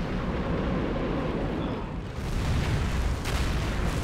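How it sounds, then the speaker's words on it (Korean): Rocket bombardment explosions from the World War II strategy game Company of Heroes roll in as a dense, continuous rumbling barrage of booms, loud and close, with no talking over them. "멀리서 또, 예, 로켓 폭격 날라오죠"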